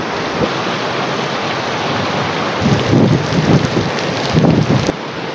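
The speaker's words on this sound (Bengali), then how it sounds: "সাথে সাথে বৃষ্টিও শুরু হয়ে গেল" Rain begins during a storm, a steady hiss of falling water with gusts that swell louder in bursts toward the end.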